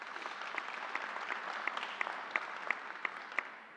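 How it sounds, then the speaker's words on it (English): Applause from an audience at a New York state vaccine announcement press event, a steady clatter of many hands with sharper individual claps standing out, moderately distant and continuing throughout. "Let's give her a round of applause."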